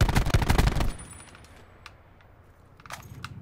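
Rapid burst of gunfire from the Xbox One shooter Black Ops 4, loud and dense for under a second, then fading to a faint room-like tail with a few sharp distant shots and clicks later.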